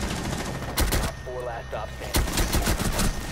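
Video game shooter gunfire rings out in loud, sharp bursts, with a few quick shots near the start and another cluster of rapid cracks toward the end, separated by a quieter stretch of game ambience.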